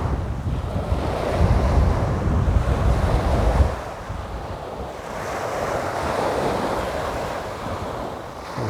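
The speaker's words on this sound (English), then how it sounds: "I'll just enjoy this brush with the North Sea for a while." North Sea waves break and wash along a lonely shoreline, a steady broad roar with wind buffeting the microphone, heavier surges at the start and again midway.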